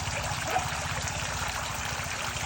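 Aerated water in a crayfish tank trickles and bubbles in a steady, continuous wash, with a constant low hum running underneath.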